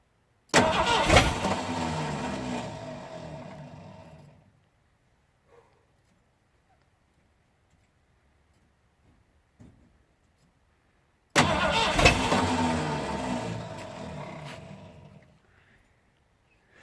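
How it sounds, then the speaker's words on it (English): A 1979 Ford F-150 with a 351 V8 cranks twice with a slipping starter, each attempt a loud whirring grind lasting several seconds before cutting out, separated by a long quiet gap. "Starter keeps slipping before it can start running completely."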